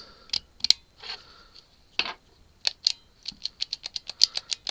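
A model throttle handle being worked up and down over and over, giving a run of short, sharp mechanical clicks and ratchety snaps, sparse at first and then quickening into a steady close rhythm with no voices.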